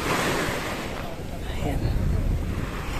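Sea waves washing onto a white sand beach, a continuous broad rush of surf with gusty wind buffeting the microphone, loud and close throughout.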